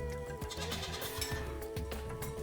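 Nubian goats bleat in a desert dairy pen, several short bleats from a few animals at middle distance over a constant outdoor rumble, with a faint clink now and then.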